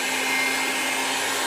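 A heat gun runs steadily, warming up for sound insulation on a Toyota Camry roof: a loud, constant motorized whir and airy hiss with no breaks and no speech.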